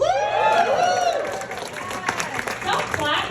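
A comedy club audience claps and whoops after a cheer, a burst of scattered applause that thins out quickly while a voice talks over it.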